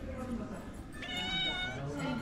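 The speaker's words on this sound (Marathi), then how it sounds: "संतरी कलर का बिल्ली" An orange cat meows once or twice, a clear mid-length cry close by, with people talking around it.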